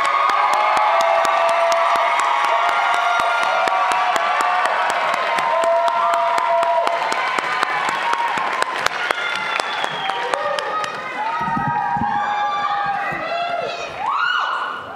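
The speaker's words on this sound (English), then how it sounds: "Let's give all of our semifinalists a big round of applause." A crowd at the Utah America Pageant 2022 applauds and cheers the semifinalists, a dense, loud, sustained wash of clapping with whoops and shouts running through it that thins and turns more scattered toward the end.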